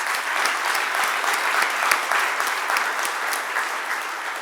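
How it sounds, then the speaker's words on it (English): A large audience at a State of the City address applauds the assistant city managers, a broad, sustained roar of many hands clapping evenly throughout. "I want to give them a round of applause."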